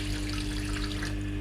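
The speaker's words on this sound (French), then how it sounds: "C'est de l'eau." Tap water runs in a strong, steady gush while a puppy is being bathed during grooming, a close, continuous rush with no talking.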